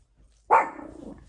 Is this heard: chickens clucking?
no